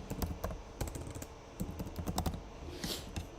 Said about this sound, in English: let's type out